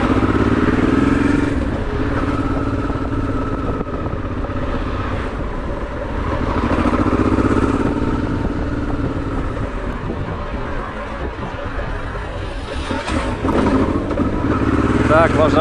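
Honda Transalp 650 motorcycle weaving between cars in a traffic jam, a steady engine drone with road noise running throughout, rising slightly in places, with someone talking over it.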